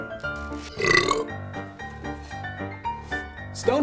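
A long, rumbling burp after a drink of dry-hopped beer, close and fairly loud, swelling near the start and trailing off in uneven pulses with a brief sharp catch at the end.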